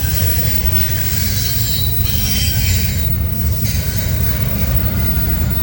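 A BNSF freight train of 53-foot well cars rolls steadily past close by, wheels squealing and grinding over a constant low rumble of steel on rail.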